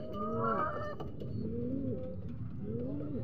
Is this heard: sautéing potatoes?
no